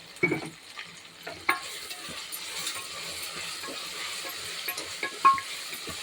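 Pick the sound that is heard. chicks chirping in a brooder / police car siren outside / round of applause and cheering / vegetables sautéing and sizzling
vegetables sautéing and sizzling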